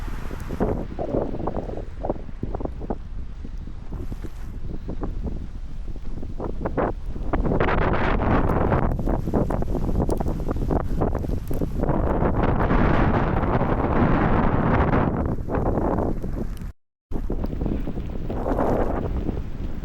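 Strong wind with blowing snow buffets the microphone in heavy, roaring gusts, loud and continuous, with one brief dropout near the end, in cold Canadian winter weather.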